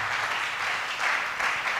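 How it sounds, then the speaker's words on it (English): Applause from a church audience during a sermon, a steady wash of clapping that swells slightly near the end, with no voices over it. "Are you clapping?"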